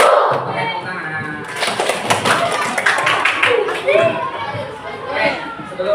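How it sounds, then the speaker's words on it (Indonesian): Children in an elementary school classroom clap their hands together, a loose burst of claps mixed with chatter and movement noise, close by. "Oke, tepuk tangan."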